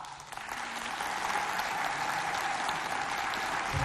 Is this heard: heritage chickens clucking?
no